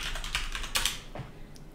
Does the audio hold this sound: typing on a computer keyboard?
yes